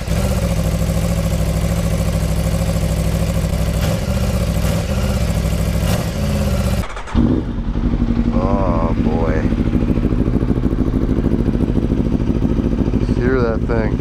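Aprilia 1100 Factory motorcycle with an Akrapovic titanium exhaust idling close by, a steady loud rumble that drops out and then returns with some blips of throttle, with people talking over it.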